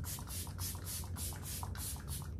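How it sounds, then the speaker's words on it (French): Bulgarian rose mist serum pumped from a spray bottle, a quick series of about seven or eight short, close hissing spritzes in a steady rhythm. "C'est un sérum en fait, mais en spray."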